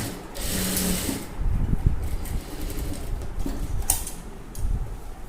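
A sewing machine runs in short bursts, close and fairly loud, double stitching the shoulder seam of a dress with a steady mechanical whir and clatter.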